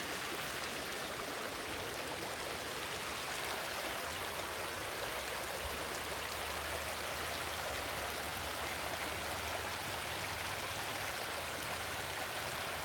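Creek water flowing steadily over rocks outdoors, a continuous broadband rushing and babbling that stays even and close throughout with no voices.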